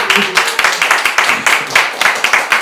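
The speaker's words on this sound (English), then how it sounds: "can you please give a round of applause to Jake for making these amazing little programs" Audience at a service-themed forum gives a round of applause, a dense run of close, steady hand claps for about two and a half seconds with no talking.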